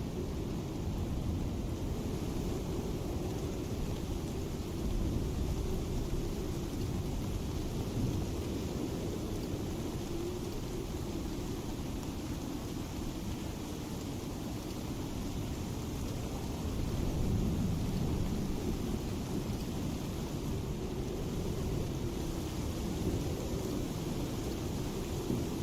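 A thunderstorm rages in the survival game ICARUS, giving a continuous, heavy rumbling roar of rain and thunder for the whole stretch with slight swells in intensity. No voices are heard.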